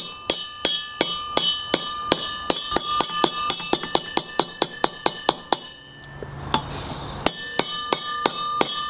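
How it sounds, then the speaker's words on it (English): A hammer taps a slightly bent pulley on a Ferris zero-turn mower back into shape, producing sharp, ringing metallic strikes in a quick regular rhythm, briefly pausing before resuming, loud and close with no talking. "They had slightly bent the pulley here trying to remove it, so I'm just going to tap it back."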